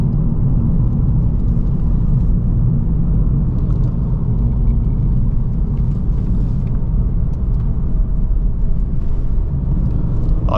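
A 2023 Acura Integra A-Spec drives along Mines Road, a winding mountain road. From inside the car, a constant low engine and road rumble carries on throughout with no one talking.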